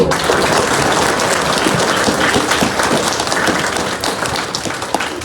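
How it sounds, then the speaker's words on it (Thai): Loud, dense audience applause at a school emergency-prevention talk, sustained steadily throughout with many hands clapping at once and no break. "ขอเสียงปรบมือดังๆหน่อยครับ"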